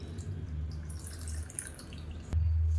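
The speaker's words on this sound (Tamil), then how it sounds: "மிக்சியை அலசிட்டு தண்ணி சேர்த்துக்கலாம்" Water trickles and drips steadily, then a louder rush of water pouring into a mixer jar takes over near the end, close by with no talking.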